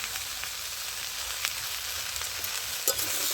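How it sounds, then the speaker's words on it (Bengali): Vegetables sizzle steadily in a hot pan as they are cooked down with salt and turmeric for a prawn and spinach curry. The frying hiss is loud, dense and continuous, and light clinks and scrapes of stirring come through on top. "এর মধ্যে আমি পরিমাণ মতো নুন আর হলুদ দিয়ে দিচ্ছি"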